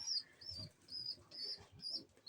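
A pigeon squab begs while a parent pigeon feeds it, giving soft repeated high squeaky peeps in quick pulses along with faint low shuffling and cooing-like murmurs, close and quiet.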